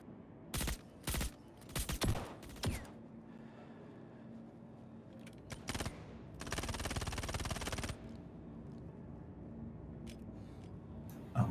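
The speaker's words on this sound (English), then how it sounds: "Opening fire." Bursts of rapid gunfire from a tactical shooter game, several short volleys early on, then a longer sustained burst, loud against a quiet ambient background.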